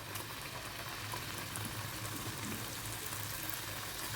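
Wheat flour sweet biscuits fry in hot oil with a steady, soft sizzle and bubbling hiss. The sound is continuous and fairly quiet, with no talk.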